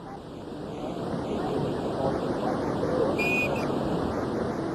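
Water rushes steadily over Lucan Weir on the River Liffey during the Liffey Descent canoe race, a continuous broadband roar close by, with a faint brief whistle partway through.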